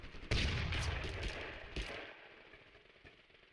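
A weapon in Totally Accurate Battlegrounds fires as a cluster of quick, fairly quiet bangs in the first two seconds, then a reverberant tail fades away.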